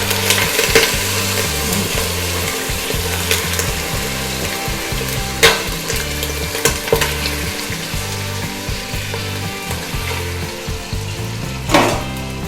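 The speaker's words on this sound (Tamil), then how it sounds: "1/2 கிலோ மட்டனை நல்லா போட்டு இதில் வதக்கிக்கணும்." Half a kilo of mutton sautéing in ghee in a pan for Dindigul thalappakatti biryani, a steady close sizzle with scraping stirs and a few sharp utensil clacks against the pan, no talking.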